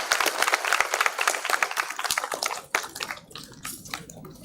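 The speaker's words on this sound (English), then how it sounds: "A big round of applause, ladies and gentlemen." An indoor audience at a sector event gives a round of applause, dense close clapping that thins out and fades to scattered claps within a few seconds.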